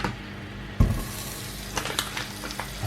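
Butter dropped into a hot frying pan for rice pilaf, a sudden thump followed by soft sizzling and small crackles, close and fairly quiet.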